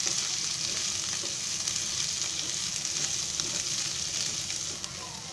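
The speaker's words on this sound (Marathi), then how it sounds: "आता त्याच्यामध्ये आहे ना हा कांदा मिरची टाकते. जरा कांदा भाजला ना" Chopped onion and green chili frying in hot oil in a home kitchen pan, giving a steady, close, even sizzle with a soft crackle and no voices.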